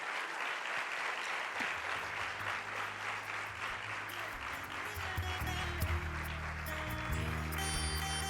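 Audience applause welcoming a panelist onto a spirituality panel, a steady sustained clatter of many hands throughout, with some low tonal background sound emerging toward the end.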